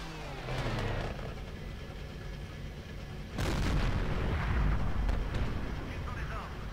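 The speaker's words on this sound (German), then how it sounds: "Was war das denn für ein Schuss?" Tank cannon shots in the video game World of Tanks, a heavy booming blast midway through with a rumbling low tail, preceded by an earlier muffled shot and continuous engine and battle noise.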